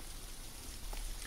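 Rain falling in the Japanese horror video game The Caregiver, a steady soft hiss of downpour with no voices over it.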